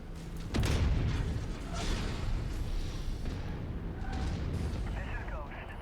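Weapon fire aimed at a tank in MechWarrior 5, a heavy boom that opens into a continuous rumbling barrage of game gunfire and explosions under a player's talk.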